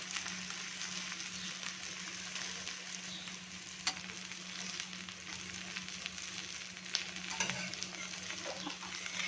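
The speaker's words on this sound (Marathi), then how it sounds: "आता आपण याला दोन्ही साईडने छान आलटून पलटून ऑइल लावून छान भाजून घेणार आहोत" Onion lachha paratha frying in oil on a hot tawa, giving a steady, close, even sizzle with no sharp breaks and a faint low hum beneath it; no one speaks.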